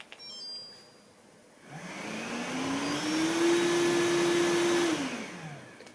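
A Samsung POWERbot R7040 robot vacuum switches up to turbo mode, its motor whine rising steadily into a loud, sustained drone with strong airy suction noise, then dipping slightly near the end.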